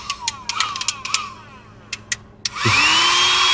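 A small USB-rechargeable handheld vacuum cleaner clicks a few times, then switches on and spins up into a loud, steady high whine with a rising tone that holds to the end.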